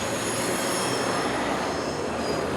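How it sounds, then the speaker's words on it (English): A train passes at Kalk Bay, Cape Town, beside a fishing harbour, its wheels squealing loudly and steadily against the rails with a continuous rushing rumble throughout. "And there goes the train."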